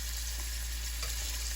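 Raw shrimp frying in a pan for a stir-fry, a steady close sizzle that holds evenly throughout with no voices.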